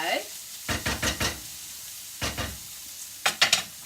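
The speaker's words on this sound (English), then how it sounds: "So give that a gentle mix, because you don't want to mush everything up." Asparagus, red onion and herbs being gently stirred together for a frittata, a handful of short, separate scraping and mixing strokes that come in uneven bursts with pauses between them.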